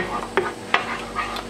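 Double cream and dark chocolate heating toward a boil in a pan, stirred with a few quick scraping strokes over a soft bubbling hiss, close and brief.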